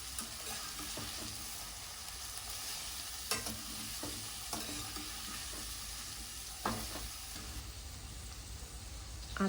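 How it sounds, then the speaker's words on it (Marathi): Mixed vegetables sautéing in oil in a pan for Marathi wedding-style masale bhat, a steady soft sizzle with occasional scrapes and taps of a stirring spoon, fairly quiet throughout. "भाज्या सर्व टाकून झाल्यानंतर त्यात तेलावर छान परतवून घेऊयात."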